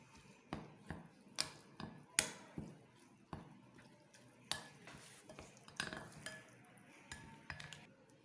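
A spoon scrapes and clinks against a bowl while a spice mixture for stuffed okra is stirred: quiet, irregular taps and knocks spaced a second or so apart, close up with no talk.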